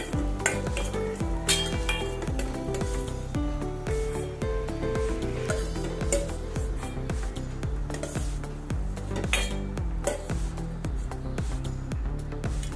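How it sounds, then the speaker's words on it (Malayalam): Raisins frying and being stirred in a pan on the stove produce a soft sizzle with repeated clinks and scrapes of a spoon against metal, set over a steady melodic background. "അതിന് കുറച്ച് മുന്തിരിങ്ങ അടുപ്പത്തിട്ട് കൊടുക്കുക ഒന്ന് ഇളക്കി"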